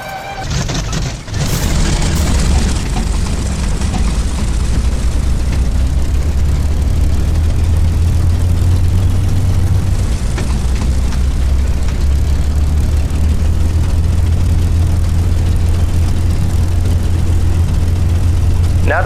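A Spitfire Mark II's liquid-cooled Merlin engine in the A2A flight simulator catches with a brief burst of cranking, then settles into a loud, steady, deep rumbling idle that holds throughout.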